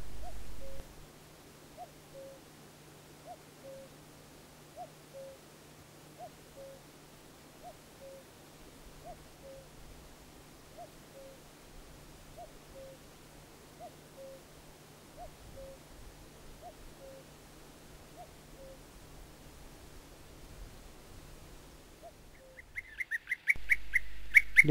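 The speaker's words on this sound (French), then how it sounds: "Le coucou gris, bien visible en Espagne." A common cuckoo in Spain repeats its two-note call at a steady pace, about one call per second, fairly distant and soft over quiet background, before a burst of louder noise at the very end.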